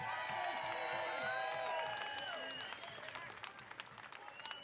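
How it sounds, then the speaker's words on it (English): An audience claps and cheers for a band at a live outdoor music show. The applause is loud and steady at first, with shouts and whoops over it, then thins into scattered claps, with voices mixed in. "a huge round of applause for an incredible band that we are so proud to share the stage with"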